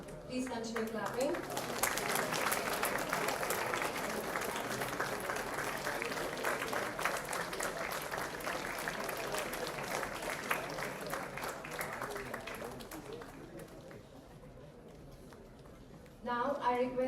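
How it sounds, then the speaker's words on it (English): Sustained applause from an audience at an international conference, steady and dense for most of the stretch, tapering off near the end before a brief burst returns. "Please continue clapping."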